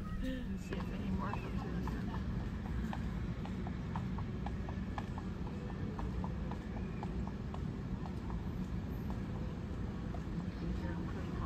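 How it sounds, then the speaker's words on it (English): A horse's hooves clip-clop in a steady, even rhythm on a hard surface at a livestock pavilion during barrel race training, heard over constant background rumble and noise. "That was a real horse going whinny"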